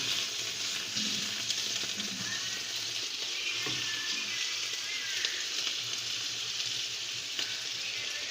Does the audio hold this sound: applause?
no